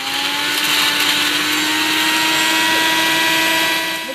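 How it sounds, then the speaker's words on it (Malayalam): A mixer grinder whirs steadily, grinding cloves and pepper into a paste for chicken biryani, with a loud continuous motor drone and blade whine that holds even throughout. "ഇനി ഇതിനെ നന്നായിട്ട് അങ്ങ് പേസ്റ്റ് ഒക്കെ അരച്ചെടുക്കാൻ പോവാണ്"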